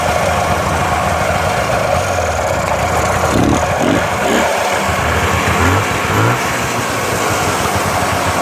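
A Subaru 360 two-stroke engine, revved while its exhaust is decarbonized, runs steadily at a buzzing idle, loud and close, with a few slight changes in pitch and no voices.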